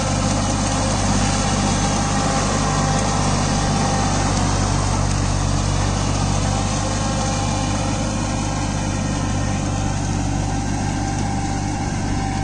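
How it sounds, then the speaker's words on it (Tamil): A Kubota Neostar B2441 24 hp mini tractor on cage wheels puddles a wet field in medium second gear, its diesel engine droning loud, close and unbroken with a deep steady hum throughout. "ஓட்டுறவர் வண்டி ஓட்டுறவர் மீடியம் செகண்ட் கியர்லேயே குறையளவு வந்து ஓட்டி கொடுக்குறாங்க"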